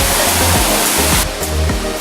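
A big waterfall on a forest hiking trail in Boquete, Panama, roars as a loud, steady broadband rush of falling water that stays close and continuous throughout, with no voices.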